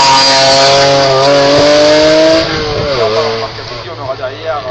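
Race car launching at the Dunières hill climb in 2025, a loud engine revving hard with rising gear pitch and then receding, under a commentator talking throughout.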